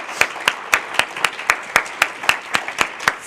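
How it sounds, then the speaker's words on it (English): Audience at an event gives a round of applause: a loud, steady series of sharp claps at a regular rhythm, about four per second, with no speech over it. "So big round of applause for you guys."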